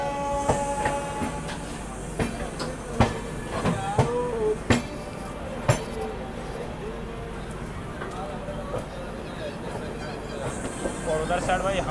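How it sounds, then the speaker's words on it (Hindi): The Azamgarh Superfast Express pulls into Kanpur Central station, a steady rumble of rolling coaches with clanking metal knocks and hiss beneath people talking nearby. "आजमगढ़ सुपरफास्ट एक्सप्रेस का अराइवल हुआ है भाई।"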